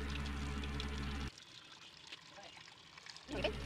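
Water is poured from above into a cooking pot holding bananas, making a steady rushing splash for just over a second before it drops to a quiet trickle and faint clatter.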